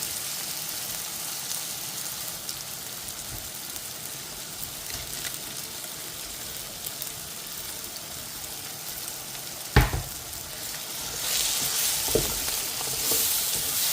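Steady sizzling of masala spices frying in a hot pan, with occasional scrapes and clinks of a spoon stirring, growing a bit louder near the end.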